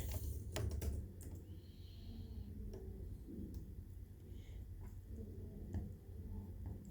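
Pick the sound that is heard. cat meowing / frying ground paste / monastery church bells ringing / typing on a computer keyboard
typing on a computer keyboard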